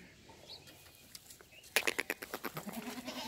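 A castrated male goat on a goat farm in Sujawal bleats in a rapid, pulsing burst of about a dozen quavering beats, close and fairly loud, after quieter farm background with faint bird calls.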